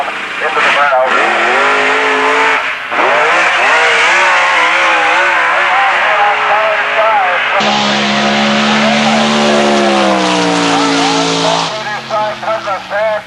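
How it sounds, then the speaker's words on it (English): Drag racing cars, the number 1 and number 3 qualifiers, do a burnout at a 1986 dragway: loud, sustained engine roar with shifting revs and tire noise, continuous and close, with an announcer talking over it. "the number 1 and number 3 qualifier cars, which you see coming down into the burnout"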